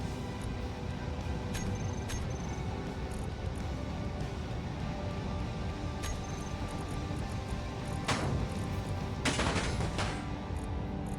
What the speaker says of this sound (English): Okay, something's definitely shooting at the ship.